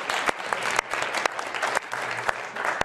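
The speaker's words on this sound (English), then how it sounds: "And I would like to give a round of applause." An indoor audience claps in a brief, fairly dense round of applause. Individual sharp claps stand out close by against the softer background clapping.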